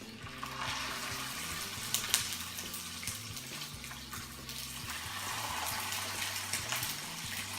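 Two crab cake patties fry in a little olive oil in a pan, a continuous crackling sizzle held at a low, even level, with a muffled low hum underneath.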